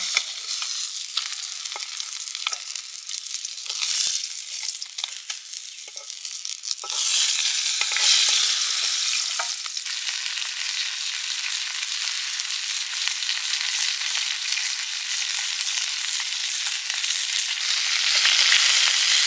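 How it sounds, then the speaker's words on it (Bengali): Silver fish frying in a pan give a steady, bright, hissing sizzle throughout, with occasional spatula scrapes and crackles, close and fairly loud, no voices. "মাছ ভাজা হয়ে গেছে।"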